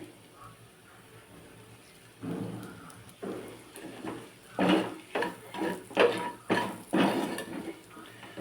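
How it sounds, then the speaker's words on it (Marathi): Light metal scraping and clinking as a spoon stirs dry Maharashtrian zunka in a pan after a little oil is added, a series of close, rhythmic stirring knocks growing busier after a quiet start. "अगदीच थोडासा कोरडा वाटतोय म्हणून थोडंसं तेल यात मी घालते"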